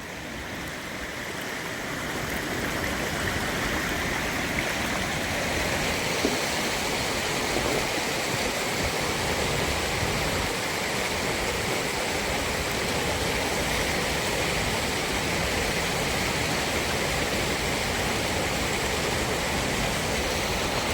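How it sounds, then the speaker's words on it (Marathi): Steady rushing of floodwater from heavy rain pouring off a road into a stream near Borgaon, a continuous broad roar that holds at an even level throughout with no voices. "ही पाणी या ठिकाणी या ओढ्यामध्ये येऊन मिसळत आहे"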